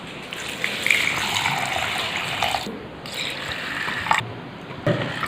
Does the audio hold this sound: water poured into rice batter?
yes